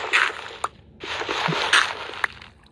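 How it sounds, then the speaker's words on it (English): Water sloshing and splashing in a video game, a steady watery wash with a few soft gurgles and drips, no voices. "We're still hearing water."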